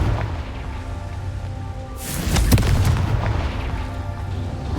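A Confringo blast spell explodes in Hogwarts Legacy, a sudden loud burst about midway that booms and crackles briefly over a steady, rain-like ambient bed.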